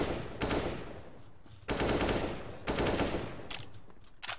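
Bursts of automatic gunfire in Counter-Strike on the Dust 2 map, three loud volleys separated by short gaps, followed by smaller scattered shots near the end, with no talk over them.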